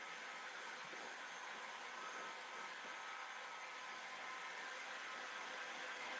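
A heat gun blows hot air to dry paint on a small table, giving a steady, even hiss-like roar that holds unchanged throughout at moderate distance, with no talking.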